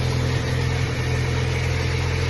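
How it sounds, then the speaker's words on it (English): A junky enduro race car engine idles smoothly and steadily with no misses, a constant mid-pitched rumble close by with no voices. "It's idling good so there's no misses"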